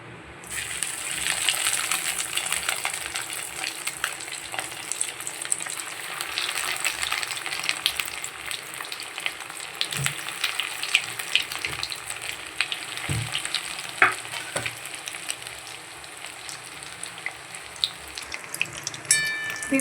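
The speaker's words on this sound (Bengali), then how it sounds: "এবার ফ্রাই করব।" Chicken donuts fry in hot oil, a steady close sizzle and crackle running throughout with occasional light clinks.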